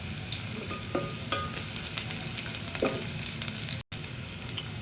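Steady sizzling hiss of onions frying in a pan, with a few soft clicks and stirs, continuous and close.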